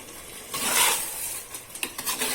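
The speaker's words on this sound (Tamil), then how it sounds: "எல்லாம் ஒன்னா சேர்த்து வதக்குங்க" Onion, tomato, brinjal and mochai beans sauté together in a pan for a kara kuzhambu, giving a short burst of hissing sizzle followed by a few scraping stirs and light clicks, close and moderately loud.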